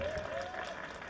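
A crowd claps at a political gathering during a Pongal celebration, a brief burst of dense, steady applause captured close.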